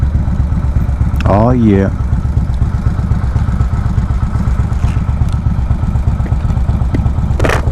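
Custom motorcycle with a 1700cc engine idling close by, a loud, steady, throbbing rumble with rhythmic pulses; a voice speaks briefly near the start over the engine.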